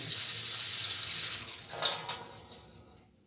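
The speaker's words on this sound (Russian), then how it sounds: "Подключим нашу воду. Воду открыли. Вот наш кран." Water runs steadily from a repaired faucet, a continuous hissing splash that briefly surges and gurgles before tapering off as it is shut.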